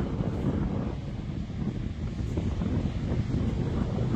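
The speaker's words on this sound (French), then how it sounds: "on a eu de la tempête, ça souffle encore d'ailleurs" Strong storm wind roars and buffets the microphone continuously on the coast at Cádiz, a heavy low rumble with the wash of big stormy waves underneath.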